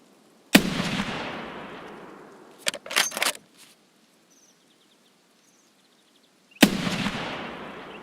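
Two loud, sharp sniper rifle shots from a raider-style video game, about six seconds apart, each with a long decaying echo, separated by a brief clatter of bolt cycling or reloading, with no talking.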